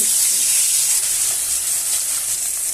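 Rohu fish pieces fry in hot oil with a steady, close, bright hiss and sizzle that holds evenly throughout, with a soft voice faintly underneath.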